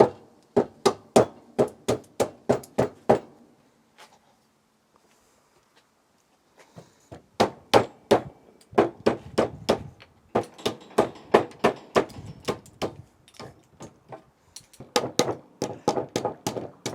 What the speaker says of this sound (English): So next I will hit it with a hammer, and you'll see